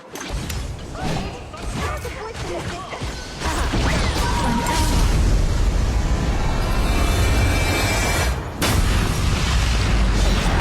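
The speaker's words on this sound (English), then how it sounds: "Your team has destroyed a tower." Explosion as a tower is destroyed in the mobile game ROV, with a loud booming crash and rumbling debris over dense game effects, followed by more blasts and an announcer voice.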